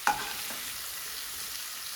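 Kadai prawns in sauce are scooped out of a hot pan with a quick scrape at the start, followed by a steady, close sizzle.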